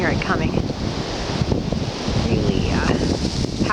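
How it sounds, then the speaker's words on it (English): Wind storm howling through an Ontario forest, a steady loud roar of gusts and rustling that holds for the whole stretch, close and full, with faint higher whistling tones drifting through and no speech. "I think you can probably hear the wind howling"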